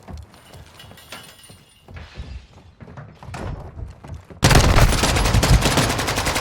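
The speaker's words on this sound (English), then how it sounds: "Is it bad I can fire this pistol almost as fast as an M4?" Rapid pistol shots ring out in Modern Warfare 2, a dense, loud volley of sharp cracks that bursts in suddenly after quieter scattered thumps and impacts, firing nearly as fast as an assault rifle.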